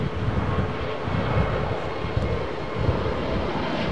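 An Austrian Airlines Airbus A320neo jet passes overhead near London Heathrow, giving a loud, steady broadband roar throughout with a slight swell in intensity.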